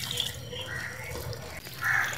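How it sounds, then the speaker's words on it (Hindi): Water trickles and splashes into a bowl of palak pakora batter, added little by little, a close, light pouring sound with brief drips. "ज़्यादा पानी नहीं एकदम से ऐड करना, थोड़ा थोड़ा डालेंगे"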